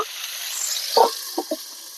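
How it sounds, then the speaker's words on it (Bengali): Potatoes frying lightly in a pan give a soft, steady hiss, with a few brief stirring clinks near the middle and end. "হালকা ভেজে নেবো এটাকে"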